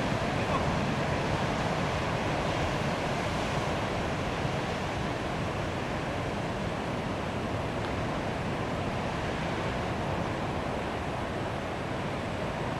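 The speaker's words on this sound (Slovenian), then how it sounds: "Valovi in valovi in valovi." Ocean waves at a surfing beach in Australia make a continuous loud broadband roar of surf, with wind buffeting the microphone throughout and no talk.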